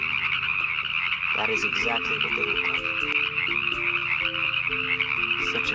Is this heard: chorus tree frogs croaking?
yes